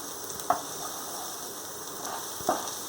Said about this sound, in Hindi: चिली गार्लिक को हम थोड़ा सौते कर लेते हैं